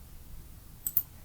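Two quick, faint computer mouse clicks, close together and alone, as the Next button of a Sitecore XP 10 software installer is pressed.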